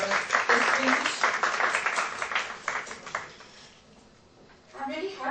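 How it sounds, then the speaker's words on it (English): Applause from a conference audience welcoming a discussion panel on poverty in India, building quickly, thinning out toward the end and fading almost to silence before some faint noise returns. "Can we have a big round of applause for our distinguished?"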